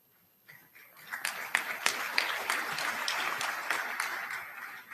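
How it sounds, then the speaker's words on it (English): An audience applauds at a high school graduation ceremony. The clapping starts quietly, swells within a second into a full, steady round of applause and carries on at the same level to the end. "You don't have to clap every time."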